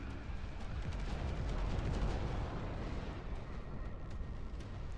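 Artillery pieces firing in the RTS game Dust Front, a dense, continuous rumble of booms and blasts that never lets up, fairly loud with no voices.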